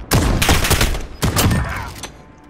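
Heavy blasts from a shotgun in a video game, two loud booming shots about a second apart, each with a short rumbling tail, close and with no talk over them.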